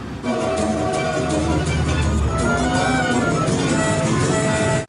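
A train rumbles steadily and loudly throughout, with a continuous mechanical roar that cuts off abruptly at the end.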